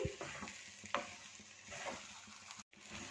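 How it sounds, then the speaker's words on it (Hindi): Gur halwa being stirred with a wooden spoon, soft thick scraping and bubbling with a few sharper knocks against the pot, close and fairly quiet. "इसको इसी तरह अच्छी तरह से मिक्स करते चम्मच चलाते जाएंगे"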